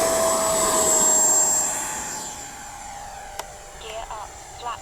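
An FMS Futura V3 RC jet airplane takes off with a loud, steady high-pitched electric ducted-fan whine that gradually fades as it pulls away, with a voice briefly heard near the end.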